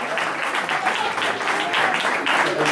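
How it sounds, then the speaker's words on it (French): Tennis club members at an awards night applaud the winners, a continuous rippling wash of clapping from a room-sized crowd, moderately loud with faint voices underneath. "On les applaudit très fort."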